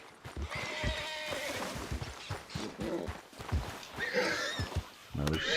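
A spooked horse in Red Dead Redemption 2 snorts and gives a shrill whinny, with hoof clops and game ambience, heard fairly close amid other game sounds and a voice.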